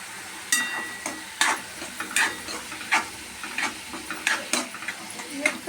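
Tomatoes fry with salt in a pot, a low sizzle broken by repeated sharp clinks and scrapes of a spoon stirring against the metal, close by and irregular.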